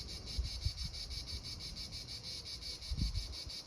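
A cicada sings outdoors, a steady, rapidly pulsing high buzz that carries on throughout, with soft low thumps and rustles underneath.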